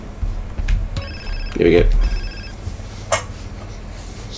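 A phone rings in Grand Theft Auto San Andreas Definitive Edition, a repeated electronic bell tone pulsing under game sounds while someone talks briefly over it.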